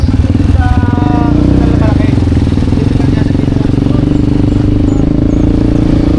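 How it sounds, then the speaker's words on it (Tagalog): A motorcycle engine drones loudly and steadily at close range throughout, with a voice talking faintly underneath. "Kaya nagmotor na lang po tayo guys."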